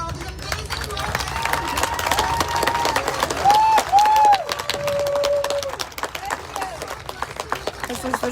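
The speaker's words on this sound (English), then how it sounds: "Let's give a round of applause for all these amazing people." Outdoor crowd at a downtown anti-mask rally applauding and cheering, a steady wash of clapping for several seconds with voices and shouts mixed in, fading toward the end.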